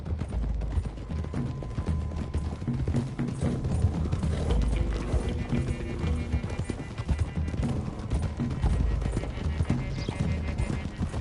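Several horses gallop in a video game, with a continuous clip-clop of hooves and occasional neighs. The sound is steady and fairly close, and voices talk faintly underneath.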